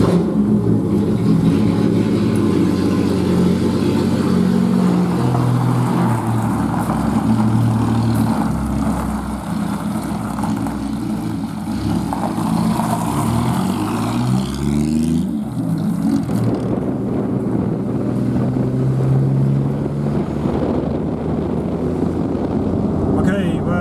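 A Triumph GT6 driving on the road after an overdrive fault repair, a steady engine drone with wind rush and shifting pitch as it accelerates and changes gear, with talking over it.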